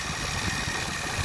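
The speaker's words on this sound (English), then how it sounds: "Acura MDX making a noise on the serpentine belt" An Acura MDX engine idles close by with a steady, dense mechanical drone and a faint whirring from a worn serpentine belt tensioner, continuous with no speech.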